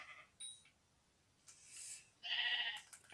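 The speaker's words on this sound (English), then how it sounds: "Come here, sheep." A Minecraft sheep gives a few short, faint bleats against quiet game ambience, with the final bleat the strongest.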